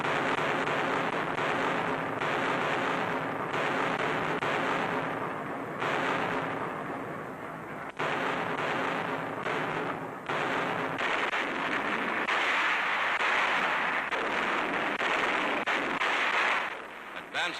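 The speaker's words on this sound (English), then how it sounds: "The assault begins at night with a terrific naval barrage." Dense, continuous rumbling booms of a night naval artillery barrage from a 1944 wartime newsreel, loud and sustained with repeated blasts blending into a roar, and a narrator's voice partly over it.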